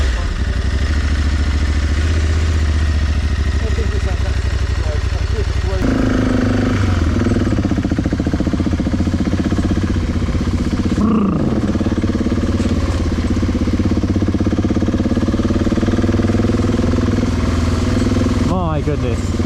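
A BMW 650 GS motorbike engine runs at a steady, loud idle with a low, continuous throb, with a brief change partway through, while people talk over it nearby.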